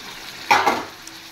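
Chicken pieces hit a hot pan with garlic and ginger, giving a sudden close sizzle and stirring scrape that swells briefly and then settles into a softer frying hiss.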